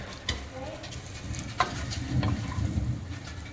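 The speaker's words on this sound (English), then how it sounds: "And you just wanna stir it really good. And just get that guanciale, or whatever you're gonna use, into your pan." Guanciale fries in a pan with a close, crackling sizzle while a spoon stirs it, adding a few soft knocks and scrapes over the steady frying hiss.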